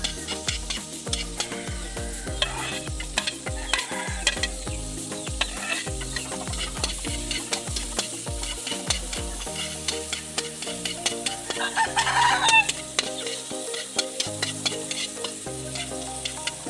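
Onions frying in a pan and being stirred, with a steady sizzle and repeated scraping strokes running throughout under prominent background music.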